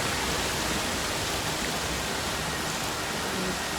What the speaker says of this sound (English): More waterfall, but it looks like we can come off to the side.